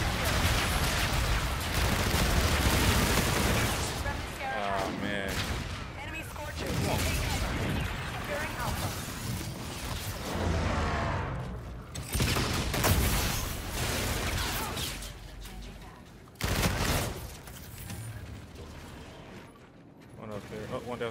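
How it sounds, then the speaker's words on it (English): Enemy bombardment in the Call of Duty: Infinite Warfare multiplayer game: repeated loud blasts and bursts of gunfire rumble through a chaotic battle mix, with a player talking over much of it. "Enemy bombardment incoming."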